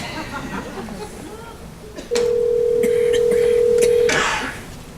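A short run of telephone keypad dialing tones, a few quick beeps, then a long steady electronic tone lasting about two seconds, with a faint voice and background noise before it.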